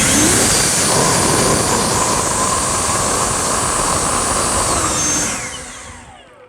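Ego cordless battery leaf blower at turbo setting roars with a loud, steady airy whoosh close by, holding constant before winding down at the end.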